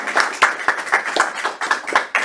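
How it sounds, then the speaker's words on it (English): Audience at a church service applauding a reverend, with a handful of distinct, fairly close claps in an uneven rhythm, each crisp hit standing out rather than blending into a continuous roar. "let's give Ayleen an applause"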